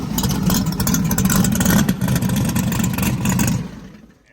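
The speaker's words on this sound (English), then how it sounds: "hit that starter, Grant. Let's see how that mechanical fuel pump start up." A car engine fitted with a mechanical fuel pump cranks and catches, then runs loud and rough with steady revving for about three and a half seconds before cutting out into quiet.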